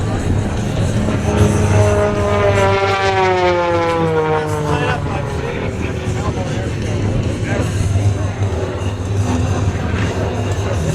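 A Florida air show aerobatic propeller airplane drones with a rising and falling engine whine through a PA announcer's voice, loud throughout and layered over crowd noise.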